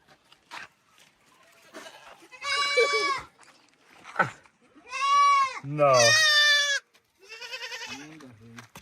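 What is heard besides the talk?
goats bleating while being milked in Maasai village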